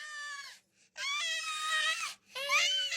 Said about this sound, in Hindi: किसी सियार के बच्चे की रोने की आवाज सुनाई दी